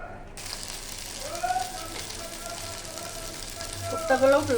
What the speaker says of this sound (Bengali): দিয়ে আমি কোপ্তাগুলোকে একে একে ভেজে নেব।